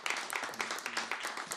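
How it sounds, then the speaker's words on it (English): Brief, moderately quiet burst of audience applause in a talk-show studio, a dense patter of many hands clapping for under two seconds. "Guys, give that a round of applause"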